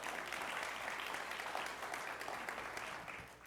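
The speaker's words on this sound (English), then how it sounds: "Let's give ourselves a round of applause for that." A conference audience in a New York session claps steadily as dense, even applause from a large room, sustained without speech for a few seconds before easing slightly at the end.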